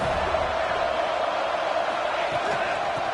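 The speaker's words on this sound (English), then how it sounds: "the crowd coming to life here, trying to help this defense down in the red zone" A packed football stadium crowd in the video game NCAA 26 roars steadily throughout as the defense holds in the red zone, a dense sustained cheer with a commentator talking over it.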